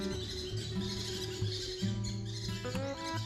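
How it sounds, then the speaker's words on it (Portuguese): Grey-breasted parakeets, a northeastern Brazilian species, calling in a steady run of close, chattering chirps over a busy background of other birds and insects. "O periquito cara-suja é uma ave nordestina que ocorria em diversos estados brasileiros"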